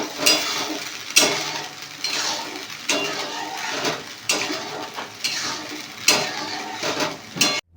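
Sauce goes into a pan of fried chicken for chili chicken, bringing a frying sizzle under repeated clattering scrapes of a spoon stirring against the pan in an uneven rhythm, close and clear.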